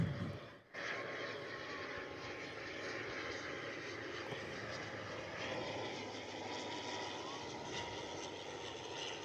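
Airlink ATR turboprop airliner landing at Perth airport, a steady loud engine and propeller roar sustained throughout, heard from an outdoor viewing deck.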